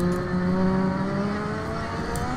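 A Lotus 98T race car engine in Assetto Corsa, with a sound mod, holds a high, steady whine with rising tonal harmonics, continuous and close, with no talking.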